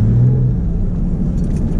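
Ford Mustang driving up a snowy driveway, a close, continuous low engine rumble with no talk.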